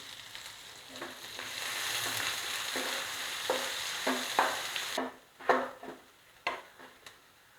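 Onions sautéing with salt in a pan for palak paneer, a bright hissing sizzle with repeated scraping and tapping of a spoon, the frying hiss dropping away near the end while clanks continue, no speech.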